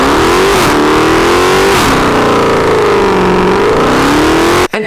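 A supercharged 6.2-liter V8 in a Dodge Charger Hellcat revs loudly and close, its pitch rising and falling through several sustained pulls before cutting off abruptly at the end.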